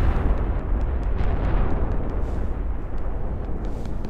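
Bombs exploding in a planet destruction simulation game, a continuous heavy rumbling roar of dense back-to-back blasts with faint crackling pops above, loud and unbroken with no talking.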